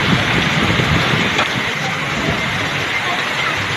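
Heavy rain pours down and water streams into a house in a dense, constant hiss and splash. The sound is loud and close throughout, with faint voices murmuring somewhere underneath.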